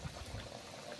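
A pot of fish curry bubbles at a steady boil, a faint continuous simmering burble heard alone without voices.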